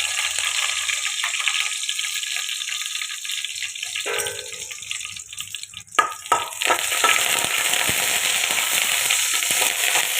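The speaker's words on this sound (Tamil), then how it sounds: "தேங்காய் எண்ணெய் ஹீட் ஆகுதுங்க. இதில் நாம் விதை எடுத்து வச்ச வரமிளகாய் 3 போட்டுக்கிறேங்க." Dried red chillies go into hot coconut oil: a quieter hiss at first, then a clatter and a loud, dense crackling sizzle that stays strong to the end.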